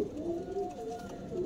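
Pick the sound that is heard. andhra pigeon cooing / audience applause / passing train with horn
andhra pigeon cooing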